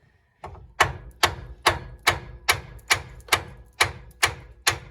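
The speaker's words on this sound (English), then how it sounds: "this bolt is quite stuck, and this one just pushes out, so we're going to hit it with a hammer" Nine loud, sharp metallic hammer blows struck at a steady, even rhythm on a stuck control arm bolt of a 2008-2013 Kia Soul, each ringing briefly before the next, close up with no talk.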